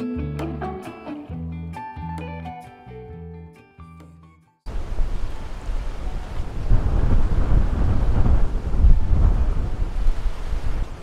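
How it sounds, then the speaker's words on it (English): After a few seconds of music, strong wind gusts buffet a motorhome parked on a trip in Spain, producing a steady, loud, low roaring rumble that surges and persists to the end. "We're in the van with the winds like this."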